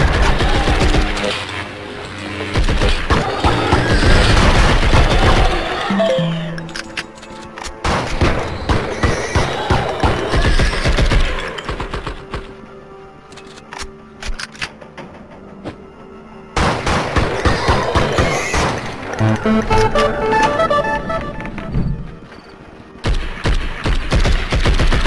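Gunfire in the video game Blood And Bacon, with rapid bursts of shots in dense clusters and pauses between them, heard alongside excited talk.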